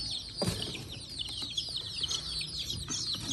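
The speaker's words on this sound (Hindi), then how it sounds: "ये देखे छोटे छोटे चूजे कितने प्यारे लगते हैं" Small baby chicks cheeping continuously at close range, a busy layer of high, thin peeps with occasional louder calls over soft background noise.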